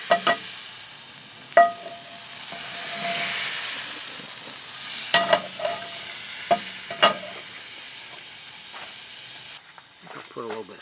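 Butter sizzles softly in a camping Dutch oven as chicken or turkey cooks, a low frying hiss broken by sharp scrapes and clanks of a utensil stirring against cast iron.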